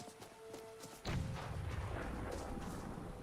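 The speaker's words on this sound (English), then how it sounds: "I keep hearing something that sounds like a gunshot." A deep gunshot-like boom in Skyrim, a single heavy thud followed by a rumbling tail, faint and distant behind soft ambient game noise.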